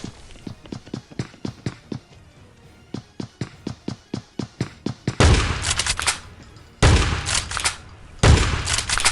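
Gunfire in the battle royale game Scarfall 2.0 on the Mumbai map: a quick, regular string of sharp single shots, then loud, dense bursts of rapid fire with short pauses between them.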